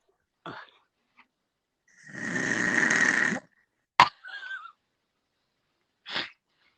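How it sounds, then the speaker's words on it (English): A person snoring in a played-back recording: a single long, rasping snore dominates the middle, with a few short breathy snorts before and after it and silence in between. "I snore worse than that, but it's getting louder too."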